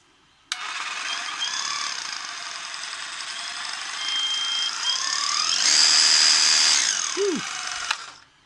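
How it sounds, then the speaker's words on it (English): A Ryobi jigsaw runs steadily for about seven seconds, a loud close whirring buzz with a slight shift in pitch partway through before winding down and stopping, with no talk over it. "that's the jigsaw for you"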